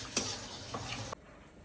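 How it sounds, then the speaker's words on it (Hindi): Stirring in a pan over low gas with a soft sizzle of frying beneath, a short scrape at the start and again midway, then quiet after about a second. "अब इसको हम धीरे धीरे सिम कर लेंगे गैस, और धीरे धीरे इसको पकाएंगे जब तक एकदम ब्राउन ना हो जाए"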